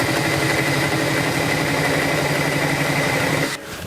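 A power drill runs steadily while enlarging a hole in metal, a continuous close whirring drone that holds for over three seconds and then cuts off abruptly near the end.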